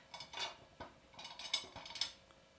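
An adjusting bolt is tightened on a Ubiquiti universal antenna mount bracket, producing faint metallic clicks and scrapes in an irregular series of short taps, quiet and close, with no voices.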